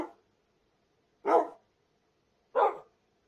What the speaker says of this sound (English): Look at all the wild puppies